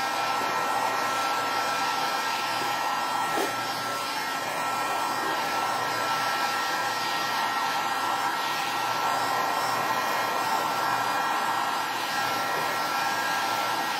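A hair dryer blows steadily to dry paint on a sea sponge craft piece, a loud, continuous close-up whoosh with no talking.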